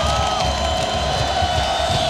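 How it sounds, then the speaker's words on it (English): A big stadium crowd roars steadily at a USA versus Mexico World Cup qualifying soccer match in Columbus in 2005, a loud continuous wash of cheering with no break. "Great crowd here in Columbus."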